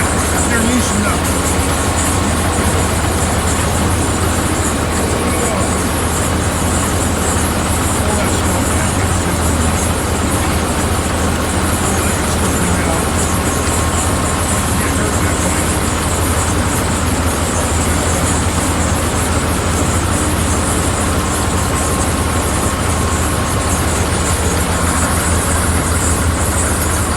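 A Barko log loader's heavy diesel engine runs continuously and loud up close, a deep, steady rumble with no breaks throughout.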